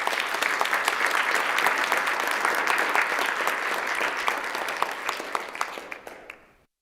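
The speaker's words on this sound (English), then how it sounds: "round of applause." Enthusiastic applause from a large crowd in a state assembly chamber, loud and steady, then thinning out and fading to silence at the end.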